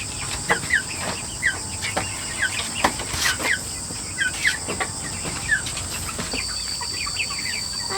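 Chickens cluck and murmur in a coop, repeated soft calls scattered through a steady rural background of insects buzzing and birds, with no talk.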